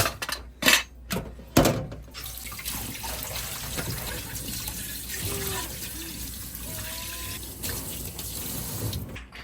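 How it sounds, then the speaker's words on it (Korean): A tap runs steadily with a trickling, splashing flow as a child's daycare plates and spoon set are pre-rinsed, after a few clattering knocks at the start. "시판과 수저 세트를 물로 애벌 설거지를 한뒤"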